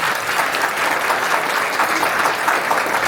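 An audience at a Ganesh aarti gathering in Leicester breaks into loud, dense applause that holds steady and unbroken for the whole stretch, with no talk over it.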